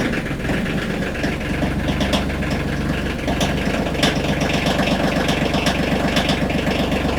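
A cold engine idles steadily while warming up, a loud, close, continuous rumble with a knocking pulse and no speech.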